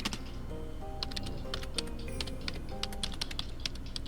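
Rapid keyboard typing in a video game, clicks irregular and steady throughout, over a soft background of low musical tones.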